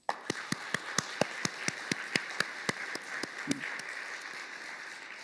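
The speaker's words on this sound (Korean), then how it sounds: "우리 박수 한번." Church congregation at a Bible study session claps in a loose, rhythmic beat, a regular series of sharp slaps repeating about every quarter second, fairly quiet and without talk.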